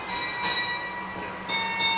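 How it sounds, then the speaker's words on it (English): Carillon bells ring out clearly, a couple of struck tones with long sustained, shimmering decay, heard on their own without talk. "All of a sudden it's a better bell."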